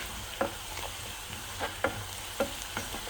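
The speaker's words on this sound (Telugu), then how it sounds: "బ్రౌన్ కలర్ వచ్చేలాగా వేగనివ్వాలి." Soft frying sizzle of spinach with onions cooking in a pan for palakura curry, broken by a few light stirring taps and scrapes, quiet and close.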